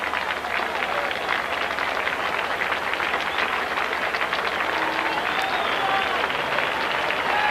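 A baseball crowd at an Oakland Athletics versus Milwaukee Brewers game applauds and cheers for a departing pitcher, a steady, dense roar of clapping and voices filling the stadium from start to finish.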